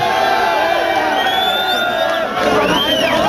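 A crowd at a freestyle rap battle cheers and whoops loudly and continuously for MC Pet, with overlapping shouts and whistles and no break in the noise.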